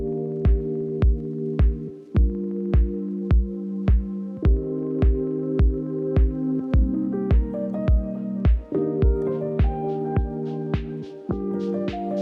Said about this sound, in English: This machine pulls taffy for aeration.